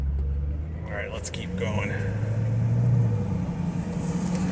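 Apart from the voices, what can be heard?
2001 Corvette C5 driving on a test drive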